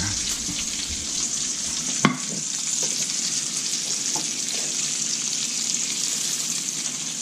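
Fresh bacon sizzling in a pan, a dense continuous crackle and spatter held at steady loudness, with one sharp utensil knock early on and no talk.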